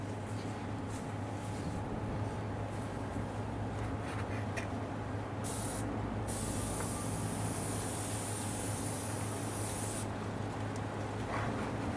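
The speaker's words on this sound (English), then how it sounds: "give it a spray with the old airbrush" An airbrush sprays paint onto a TT:120 model railway bridge kit, a soft steady hiss rising in one clear burst of several seconds against a quiet room background.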